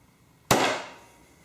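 A small Gerber axe strikes once through gel-wax braided jute cord, a single sharp close chop that rings out and fades over about a second in otherwise quiet surroundings.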